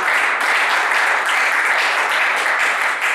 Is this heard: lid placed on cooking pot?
no